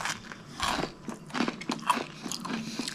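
Bites into a crunchy, dry rusk (biscotte), close crisp cracks and crunches followed by chewing, repeated several times over a few seconds with no talk.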